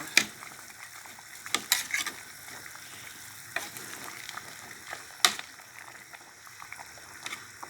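Chillies and holy basil leaves are tipped into a pot of Thai tilapia soup with young tamarind leaves, bringing a low, steady bubbling simmer broken by a few sharp clinks of a utensil against the pot.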